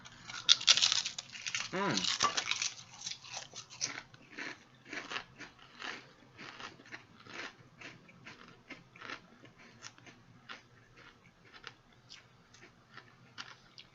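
Close, crisp crunching of lemon pepper potato chips: one loud bite followed by a steady run of rhythmic chewing crunches that gradually soften.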